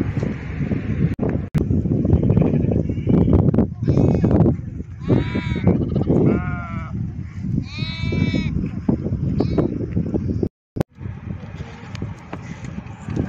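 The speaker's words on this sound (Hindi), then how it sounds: "सड़क के किनारे कुछ भेड़ बकरियां चल रही थी" Sheep and goats bleat by a roadside, several wavering calls from the flock close by under steady wind noise and people talking.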